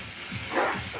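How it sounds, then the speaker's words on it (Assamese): Dried fish frying in spice paste gives off a brief, steady hiss of sizzling oil, close and moderately loud, with faint low bubbling beneath. "মাছ ভাজি আছে"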